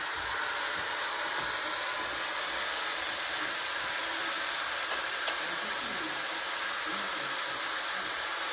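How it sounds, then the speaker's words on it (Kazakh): A pneumatic, compressor-driven extractor sucks engine oil out of a car engine, giving off a loud, steady airy hiss that runs unbroken from start to finish. "Қозғалтқыштың майын сорып болдық"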